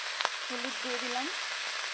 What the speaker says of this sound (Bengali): এখন ভালো করে নেড়ে চেড়ে কষিয়ে নেব সবজিটা।